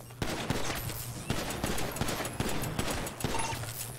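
Rapid bursts of gunfire crackle through a police chase video game scene, sharp repeated shots in a dense, steady fusillade with a low engine-like hum beneath and no clear talk.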